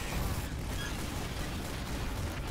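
Team Fortress 2 match with several demomen spamming bombs: a dense, continuous wash of overlapping explosions and pops, loud and close, with no clear gaps between blasts.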